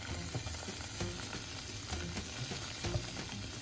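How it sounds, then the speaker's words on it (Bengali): Ginger frying in a pan for chicken chopsuey, a steady broadband sizzle with scattered clicks and scrapes of stirring, fairly close and with no voices. "হালকা একটু ফ্রাই করে নেব। অ্যাড করে দিব জিঞ্জার"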